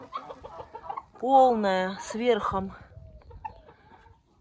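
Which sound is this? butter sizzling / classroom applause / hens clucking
hens clucking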